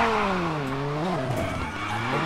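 Rally car tires squeal in a long skid through a handbrake turn in the WRC 9 racing game. One continuous screech bends up and down in pitch over the engine.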